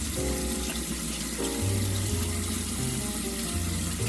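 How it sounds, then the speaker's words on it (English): Tap water runs steadily into a kitchen sink while hands and arms are washed after handling a raw turkey, a continuous close splashing rush with shifting tones as the flow is interrupted. "that's why I'm washing up my arms a little bit"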